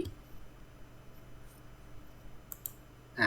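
Computer mouse clicks while working in the Unity game editor: a quiet room with a few sharp, isolated clicks, a double click near the end, followed by a brief louder bump.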